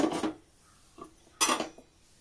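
A spoon stirs jackfruit seed curry with curry leaves in a pot, giving a few separate scraping, rasping strokes with short quiet gaps between them.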